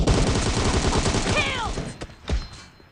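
Dense automatic fire rattles in quick bursts in a shooter video game, close and loud, with a few whistling ricochet-like streaks, tapering off into scattered single shots near the end.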